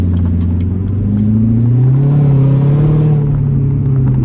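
A Corvette engine rumbles and revs on a late-night city drive, a loud low drone rising smoothly in pitch as it accelerates, then settling back. There is no talking.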